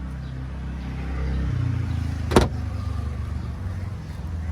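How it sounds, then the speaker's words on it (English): Powered boot lid of a BMW 530d luxury sedan opening, heard as a low steady mechanical hum with one sharp latch click midway, close by. "Here the boot opens, effortlessly."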